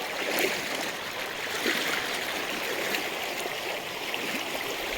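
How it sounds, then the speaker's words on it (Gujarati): Continuous rushing of the Malan River flowing nearby at Mota Kutvada, a steady broadband wash with small surges and no voices. "માં પાણી આવ્યું છે"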